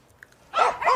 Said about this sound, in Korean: 개가 짖는 걸 보니 누가 또 마을에 들어왔나 보네